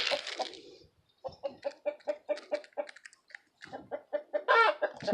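A voice imitates a hen, calling chickens outdoors during a 2018 North Carolina snowstorm with a run of short, evenly spaced clucks, close and fairly quiet, ending in a louder squawking burst.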